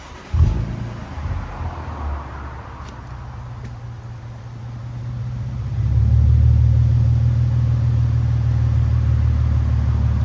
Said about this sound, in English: That's idle.